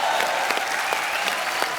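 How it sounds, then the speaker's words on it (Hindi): A studio audience on a comedy talk show applauds loudly and steadily, a dense continuous wash of clapping from a crowd filling the whole moment. "एक बार यूवी पाजी के लिए जोरदार तालियां।"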